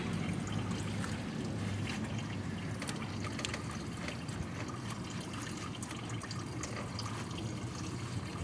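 Fluid drains from the engine of a 2001 Lexus LS430 during a VVT-i camshaft gasket replacement, a steady close trickling and splattering flow that runs on without a break.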